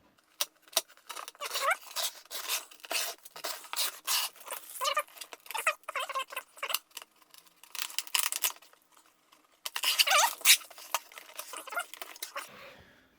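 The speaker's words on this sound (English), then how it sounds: "I would probably need to cut this tape somewhere" Tape on a cardboard box holding a 1:18 scale 1964 Lincoln Continental model car being cut and torn open: close, irregular crackling, snipping and crinkling bursts with short pauses, loudest near the end, no talking.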